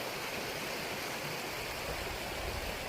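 Water in a creek beside a rural property in a Georgia valley rushes over rocks, a steady close broadband wash with no breaks.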